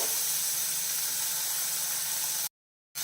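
Chopped onions sautéing in hot oil for a ladies finger curry, a steady close sizzling hiss that runs continuously without talk and then cuts off abruptly near the end.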